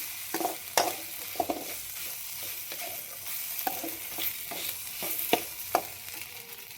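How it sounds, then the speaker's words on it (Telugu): Ginger paste fries in a pan, giving a steady close sizzle punctuated by a series of spoon-stirring scrapes and taps. "అల్లం పేస్ట్ అయితే వేసుకున్న ఫ్రెండ్స్ కొద్దిగా పచ్చివాసన పోయేంత వరకు అయితే వేయించుకుందాం."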